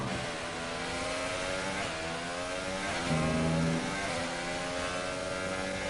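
A Formula 1 car engine in the F1 2018 racing game drones steadily at high revs in lean fuel mode, a loud continuous whine with slight pitch shifts as the car lifts and accelerates.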